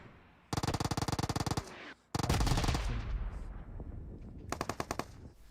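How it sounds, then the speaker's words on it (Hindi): Heavy bombardment in the PUBG Mobile red zone over a house, rapid rattling bursts of gunfire-like blasts, a loud rumbling impact with a fading tail, then another quick burst, no talk. "अब यहाँ पे लाल जोन फट रहा होता है भेरा हाउस के ऊपर"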